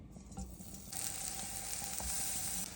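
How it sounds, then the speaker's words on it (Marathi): Chana kababs shallow frying in refined oil in a home kitchen, a steady close sizzle that swells louder partway through and holds as a continuous hiss, with no one speaking. "शॅलो फ्राय करूया."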